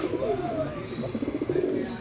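Pigeons offered for sale coo in a low, repeated warble, close and fairly loud, with faint background murmur.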